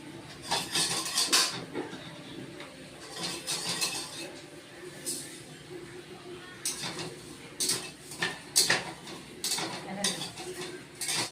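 Metal scrapes and clinks against a pan in irregular bursts as whole coriander, fennel and black peppercorns are dry roasted and stirred, with quiet pauses between the strokes.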